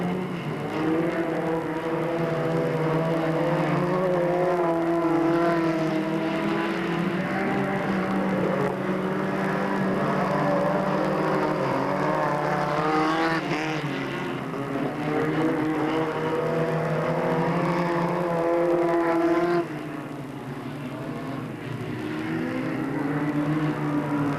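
Race cars on the final lap at Delta Speedway in 1997, a continuous loud engine drone with shifting pitched whines as several cars run together at speed, held for over twenty seconds without talk.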